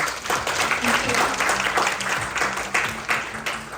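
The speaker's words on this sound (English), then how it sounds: "let's give her another big round of applause" Audience applause after a session talk at a technical conference, uneven clapping from a modest crowd with distinct individual claps, while a low voice or hum runs underneath.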